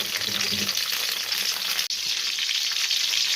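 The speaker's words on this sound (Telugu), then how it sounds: "ఆయిల్ కాగిన తర్వాత అందులో కొన్ని పచ్చిమిరపకాయలు అయితే వేసుకున్నాను." Green chillies fry in hot oil for a gongura chicken curry, a dense, close and continuous sizzle with a brief dropout partway through.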